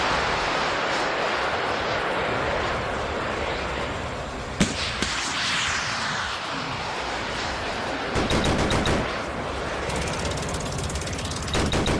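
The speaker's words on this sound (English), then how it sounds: "Usta's long fangs are firing everything they have against the approaching Xenos aircraft" Weapons fire at approaching Xenos aircraft in a Warhammer 40000 battle, a dense continuous roar of rapid shots and engine noise with sharp cracks and later rattling bursts, loud and unbroken.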